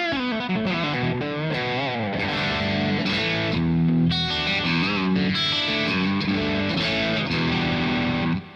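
Overdriven electric guitar played through a Maple amp, a loud, continuous distorted tone with chordal strums and sustained notes, no voices.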